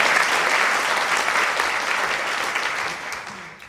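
Loud, dense applause from a jazz concert audience for the drummer, strongest at first and then slowly fading over a few seconds.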